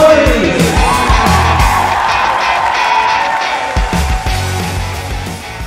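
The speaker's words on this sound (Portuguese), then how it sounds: "quero uma grande salva de palmas para" A loud conference audience at BrazilJS Conf 24 in Porto Alegre yells, whoops and cheers together. The crowd noise is sustained and close, with handclaps mixed underneath.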